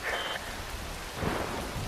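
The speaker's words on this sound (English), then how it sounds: "Wind blows, rain falls." Steady rain pours in a stormy outdoor scene from the video game Metal Gear Rising: Revengeance, with a low rumble of thunder swelling midway, loud and continuous, with no voices.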